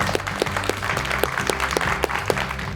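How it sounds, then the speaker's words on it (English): Children clapping along in a Sunday-school style Bible lesson, a brisk patter of hands with a loosely rhythmic beat, fairly close and loud over a faint background hum, with no speech. "Let's clap for this good news."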